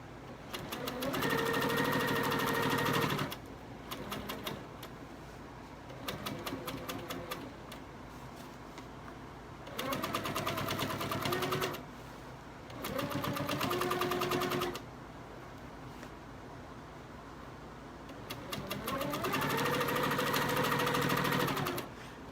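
A sewing machine stitches a quilted table runner in blue thread, running in several loud sustained bursts of rapid mechanical whirring separated by short pauses, with no talking over it.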